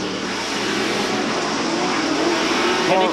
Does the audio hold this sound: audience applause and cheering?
no